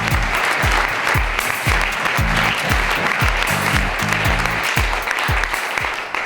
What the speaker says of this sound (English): And a big applause, first of all,